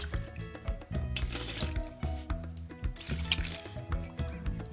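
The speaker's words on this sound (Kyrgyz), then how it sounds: "Үстүнө тарелканы жаап, капустанын суусунан бир аз куюп коебуз." Cabbage brine poured over kimchi covered with a plate makes a close liquid trickle and splash in uneven bursts, with dripping and gurgling between pours.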